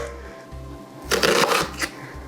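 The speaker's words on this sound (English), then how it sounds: "holding the onion with that claw, we're gonna come straight down, letting the knife do all of the work" A knife cuts straight down through an onion held in a claw grip, giving one short crisp crackling burst of slicing close by, with quiet pauses before and after.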